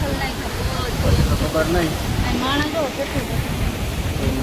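Floodwater from heavy rain rushes through the open gates of a dam in a steady, loud roar with no let-up, while a voice talks over it.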